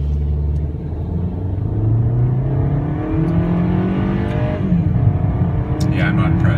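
A 2016 Kia Forte LE accelerates hard, its engine note climbing steadily and dropping at gear shifts, a loud continuous rumble from start to finish.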